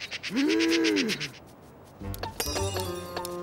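A cartoon magpie gives a single squawking, rising-and-falling call, followed by louder animated sound effects and bustle.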